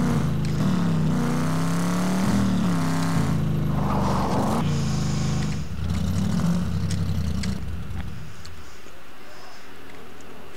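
Car engine in the game Garry's Mod during a zombie apocalypse session, a steady low motor drone with revving swells that fades after a few seconds, partly under background voices.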